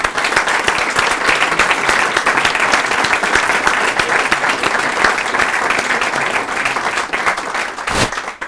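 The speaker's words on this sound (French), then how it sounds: "Je pense qu'on peut les applaudir." An audience at a live hypnosis session applauds the participating hypnotists, dense sustained clapping from a full room that carries on for several seconds before tapering off.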